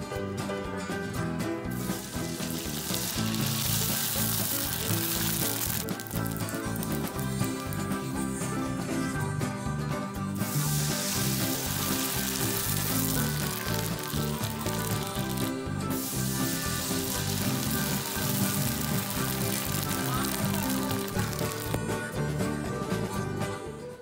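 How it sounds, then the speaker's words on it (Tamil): Sago vadam (javvarisi vadagam) deep-frying in hot oil, a loud, dense, continuous bubbling hiss that swells in waves throughout with no pauses and no voices. "அப்படியே எண்ணெயில் பொறிச்சு பொறிச்சு எடுக்க வேண்டியது"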